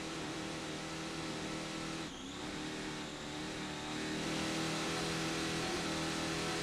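A 50-foot Mystic Superboat Unlimited racing powerboat with a pair of 1,500 horsepower Stotler engines roars steadily at a distance during offshore racing at Key West, with a brief dip and swell in the engine drone.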